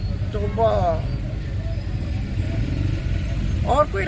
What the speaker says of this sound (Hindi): इतनी ट्रैफिक, तौबा।